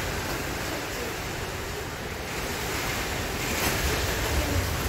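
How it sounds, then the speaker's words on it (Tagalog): Powerful wind blows hard outdoors on a stormy, rainy day, a continuous loud rushing roar with low-end microphone buffeting that swells slightly toward the end; nobody speaks. "Grabe yung lakas ng hangin."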